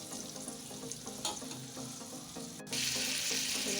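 Food sizzling in a pan, a dense steady hiss under faint background music, quiet at first and then swelling louder after a brief break near the end.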